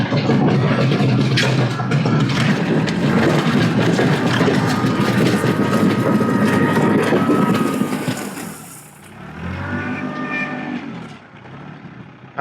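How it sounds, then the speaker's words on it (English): A tractor engine hauls a load of gravel on a farm property. It runs as a loud, steady, close rumble, drops off sharply near the end, then returns more quietly. No one speaks. "I could get the big tractor and use the bucket, but we'll just carry a load back at a time"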